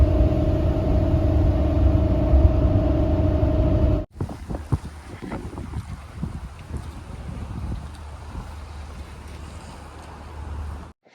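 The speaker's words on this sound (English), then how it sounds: "The wind is picking up." Wind during an ice storm, first a steady loud roaring rush, then after an abrupt cut a gustier, rumbling blowing with scattered knocks and buffeting.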